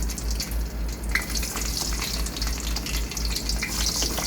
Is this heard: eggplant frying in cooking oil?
yes